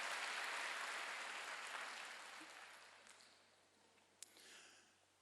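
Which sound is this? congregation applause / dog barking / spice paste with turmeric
congregation applause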